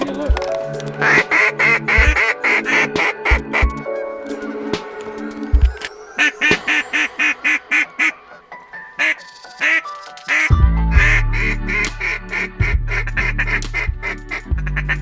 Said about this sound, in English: Here comes some ducks.